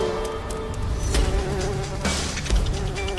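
Honeybees buzz around a hive raided by a honey badger, a dense continuous insect drone with scattered close wingbeat passes and a few sharp knocks.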